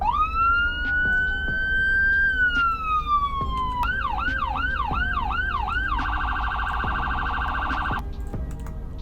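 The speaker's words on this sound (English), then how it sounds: "And the sirens." Police car sirens in the Roblox game Greenville: a long rising wail, then a rapid yelp cycle, then a steady high-low tone, loud and close with a faint engine rumble beneath.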